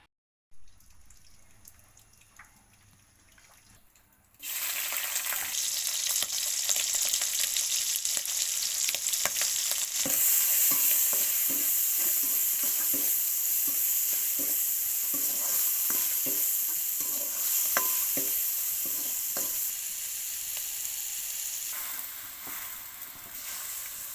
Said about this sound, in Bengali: প্রথম চিংড়ি মাছটা ভেজে নিলাম